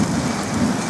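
Heavy tropical rain pours steadily during the rainy season in Thailand or Laos, a dense, even hiss that stays loud and unbroken throughout.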